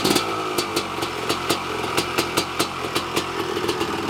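Motorcycle engine idling right after a first-kick start, a tight, high-compression motor ticking over in a brisk, even beat with sharp periodic pops, close and loud.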